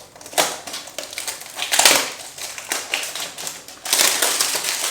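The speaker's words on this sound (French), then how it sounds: "on va ouvrir les graines" Seed packets for an AeroGarden indoor growing kit are torn and opened up close, giving crinkly, crackling bursts of plastic and paper rustle in irregular surges, with no speech.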